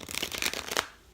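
Quick riffling of a deck of cards being shuffled, a rapid flutter of flicks lasting under a second, then quiet.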